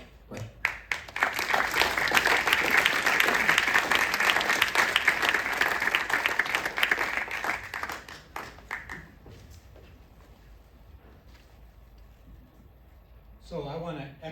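Audience at an annual community center membership meeting breaks into loud, sustained applause lasting several seconds before fading to scattered claps, then a voice begins speaking.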